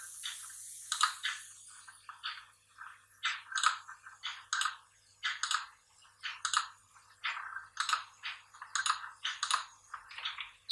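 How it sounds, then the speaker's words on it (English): Keys clatter on a computer keyboard during AutoCAD drafting, bursts of quick close taps separated by short pauses, with an Enter key pressed twice in quick succession, clear and alone without speech. "tr and press the enter key double time"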